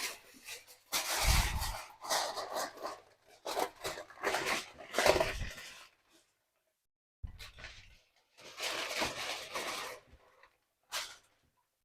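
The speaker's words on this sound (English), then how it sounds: "So let me get the foil on." Aluminium foil crinkles and rustles as it is laid over a slow-roasting lamb, in close, irregular crackling bursts with short pauses between them.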